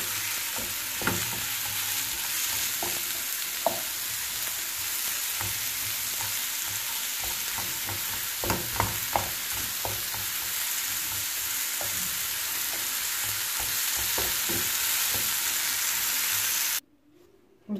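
Stuffed mullet fish browns in a hot pan, a steady close sizzling and spitting hiss with scattered small pops and clicks that continues for most of the clip, then cuts off abruptly near the end.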